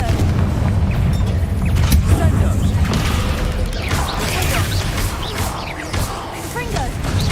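Booming explosions from the Confringo spell in Hogwarts Legacy crack repeatedly over dense, continuous game combat noise, loud and chaotic throughout.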